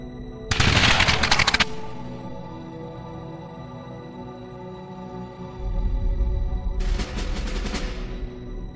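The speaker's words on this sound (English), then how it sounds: "This time, the shots find their target." Two volleys of musket gunfire from a firing squad at a Continental Army execution during the American Revolutionary War, each a dense burst of overlapping shots lasting about a second, separated by a quiet gap with a low rumble near the end.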